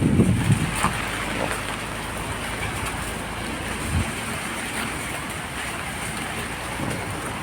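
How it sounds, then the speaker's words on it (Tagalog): Heavy rain falls steadily over a flooded construction project site, a loud continuous hiss with a few low thumps early on and no voices over it. "Hindi tayo makapagtrabaho kay ulan."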